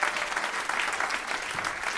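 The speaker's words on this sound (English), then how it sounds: "Another round of applause." Live audience applause at a holiday celebration broadcast, a dense, sustained clapping from a sizable crowd, even and continuous throughout.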